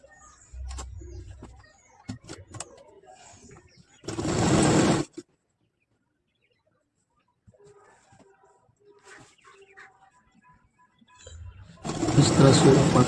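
A sewing machine stitches an Arabic jubba garment in two short, dense bursts of rapid mechanical whirring. A person talks in between, and a pigeon coos faintly in the background.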